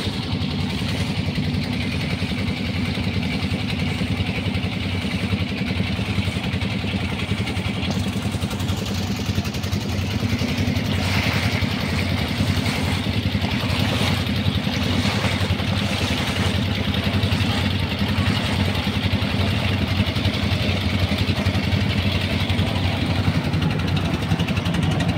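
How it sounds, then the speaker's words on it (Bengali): A boat engine drones steadily on the river at Bholaganj, a loud, even, close-up rumble with rattling clatter that holds unchanged throughout. "ঠিক সামনে দিয়ে আরেকটি নৌকা যাচ্ছে"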